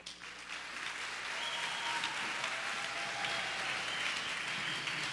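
Steady applause from an audience at a children's church festival after a parable performance, a dense, even wash of clapping that builds quickly and holds for several seconds, moderately distant with no voices.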